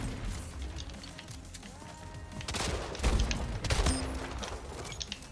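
Bursts of automatic gunfire and booming impacts in the arena shooter video game Splitgate, loud and close, with repeated shot clusters and a few sharp electronic tones over a rumbling background.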